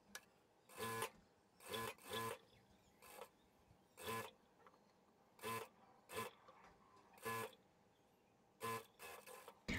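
A sewing machine stitching a folded trouser hem, short quiet bursts of rapid mechanical whirring separated by pauses, faint and close.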